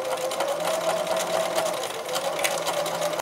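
A sewing machine stitches through fabric while rounding a corner, giving a steady, close, continuous mechanical whir with a fast rhythmic needle pulse that stops abruptly at the end.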